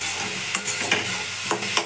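Sliced radish (mulo) sizzles in a pan as its water cooks off, with several scraping stir strokes coming at a loose, irregular rhythm over the steady frying hiss. Close and fairly loud, with no talking.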